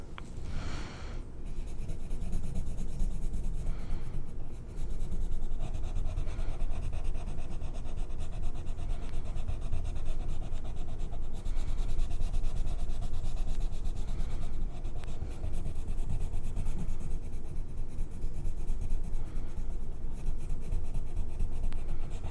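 Prismacolor colored pencils scratch and rub steadily on the paper of an adult coloring book mandala, a close, continuous scratching with brief pauses between strokes and a low hum of distant outdoor noise underneath.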